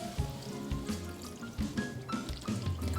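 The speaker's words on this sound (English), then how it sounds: "We're going to add about a half a cup of water just so that this mixes in nicely" Water is poured into browned ground beef in a hot pan while making 7 layer dip, with loud sizzling, bubbling and liquid splashing throughout.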